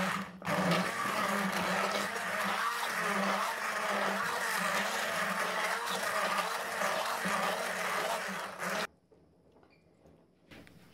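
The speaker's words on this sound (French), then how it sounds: "je vais mixer en velouté" A kitchen blender whirs steadily, loud and close, as it purées chicken soup into a creamy velouté, then cuts off abruptly, leaving quiet.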